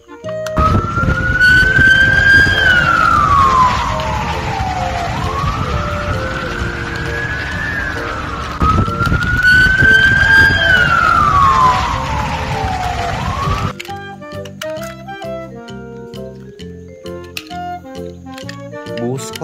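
A loud wailing ambulance siren sweeps up and down in long repeated cycles, then cuts off and gives way to music.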